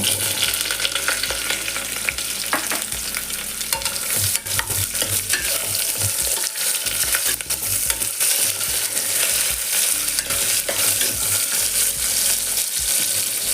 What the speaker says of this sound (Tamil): ஆனியன் நல்லா வதங்கிட்டோம் வெங்காயம் நல்லா வதங்கிருச்சு